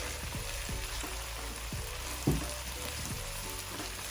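Mixed vegetables for prawn fried rice sizzle steadily in a hot pan, a continuous dense frying hiss with a brief clack of utensil or ingredients partway through.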